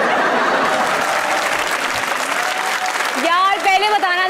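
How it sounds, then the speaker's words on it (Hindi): Studio audience on a comedy talk show applauds loudly for a few seconds, then a voice speaks over the tail of the clapping. "और अब आपकी भरपूर तालियों में आखिरी तस्वीर"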